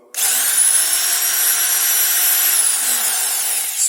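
Power sander fitted with 60-grit paper working over weld spots on a Golf III VR6 body, a steady, loud, high whirring grind that runs unbroken for nearly four seconds with a faint pitch sweep near the end.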